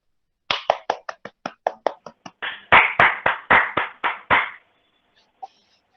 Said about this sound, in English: Please give him also a big round of applause